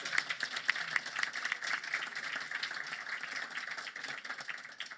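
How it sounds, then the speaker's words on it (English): An audience at a conference session claps, a fairly quiet, crisp patter of hands that rises quickly and holds steady for several seconds before fading slightly at the end. "give him a round of applause."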